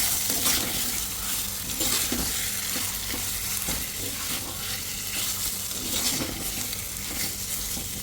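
Chicken being stirred as it fries in coconut oil inside a clay pot: continuous close sizzling with repeated scraping and stirring scuffs and occasional louder bursts of crackle.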